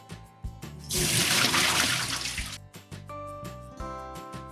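Glutinous rice being rinsed in water, a loud burst of running, splashing water for about two seconds, then quieter clinks and trickles in a sink.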